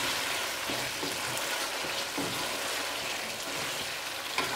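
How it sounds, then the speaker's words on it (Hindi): Cabbage frying in a pan for chicken macaroni, a steady close sizzle with faint stirring crackles throughout, no voices. "बंद गोभी को हम इस तरह से फ्राई करेंगे कि उसमें उससे उसका क्रंच ख़त्म ना हो।"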